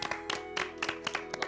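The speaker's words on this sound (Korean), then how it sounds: "박수 주세요" A studio audience at a music variety show claps briefly, with a few hands striking in a loose, quick rhythm close by.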